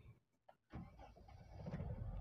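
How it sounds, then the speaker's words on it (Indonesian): Engine of a 2005 Suzuki Aerio DX manual being started from inside the cabin: a brief quiet crank, then the motor catches and settles into a smooth, low, steady idle. "ini suara mesin dari Suzuki Aerio halus banget."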